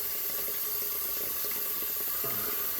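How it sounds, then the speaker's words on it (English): A sink tap runs steadily at a bathroom sink before a shave, a constant close hiss of flowing water lasting the whole time with no talk. "Sorry about the running water."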